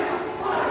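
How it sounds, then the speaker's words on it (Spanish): Saudi Arabian fans in a football stadium crowd boo loudly, a dense sustained roar of many voices filling the space without pause. "hay abucheo de los árabes"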